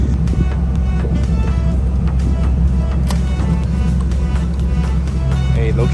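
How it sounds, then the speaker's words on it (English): A car rolls along on a flat tire, giving a steady, loud low rumble of road and engine noise with wind buffeting throughout and no clear voices. "Literally driving on a flat tire right now"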